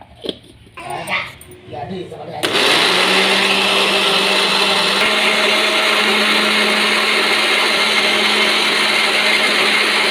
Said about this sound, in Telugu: దీనిని మిక్సీ పట్టుకుందాం